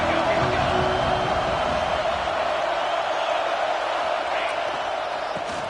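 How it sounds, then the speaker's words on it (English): Football stadium crowd at a college game between Texas and Oregon, a loud sustained roar of cheering filling the whole stretch with a commentator talking over it. "This crowd ready to make its presence known."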